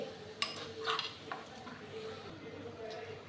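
A lid comes off and batter is beaten in a bowl, with a few light metallic clinks and soft scraping taps, quiet and close, with voices faintly present.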